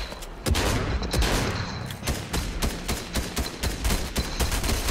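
Rapid bursts of automatic gunfire from a Fortnite squad match crackle loudly and continuously, dense overlapping shots close by, with no clear talking.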